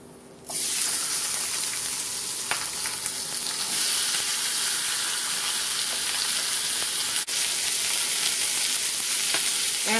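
Pork chops fry in hot oil in a pan, a loud, steady sizzle that starts abruptly and keeps crackling close up, with occasional small pops.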